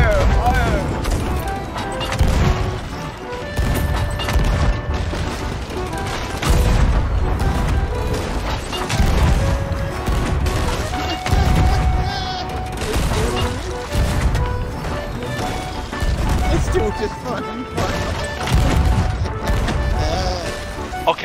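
Booming cannon blasts from a three-cannon brig in the pirate game Sea of Thieves, fired in repeated heavy thuds and crashes over rolling sea and ship noise, with players talking throughout.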